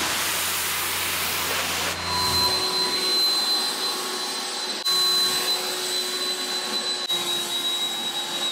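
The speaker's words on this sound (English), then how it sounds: "That's just the pressure washer." A pressure washer rinses polished aluminum on a fleet truck, putting out a loud, continuous roaring hiss of spray close up, steady with brief shifts where the nozzle moves.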